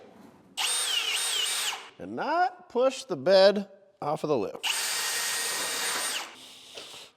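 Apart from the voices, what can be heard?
drilling a trim hole with an 11/32 drill bit in a truck bed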